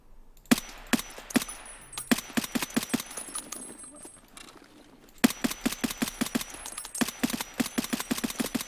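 Rapid bursts of single gunshots in Escape From Tarkov on the Shoreline map, sharp loud cracks in quick irregular strings with brief pauses between volleys, no talking over them.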